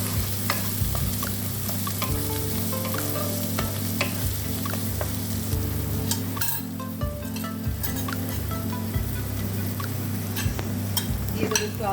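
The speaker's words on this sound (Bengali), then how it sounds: "প্রথমে দেবো আমি কাঁচা পেঁয়াজ। তেলটা আমি বাড়িয়ে রেখেছি।" Raw onion frying in hot oil for a Bengali rohu fish curry, a steady, close sizzle running throughout with occasional stirring clinks and scrapes, loud and continuous with no talk.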